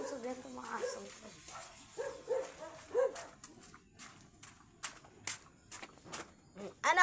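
A dog barks repeatedly in short, uneven bursts with a few whimpering yips, fairly close, while a person scolds it in between.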